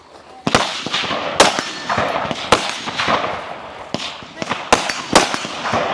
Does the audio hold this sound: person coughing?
no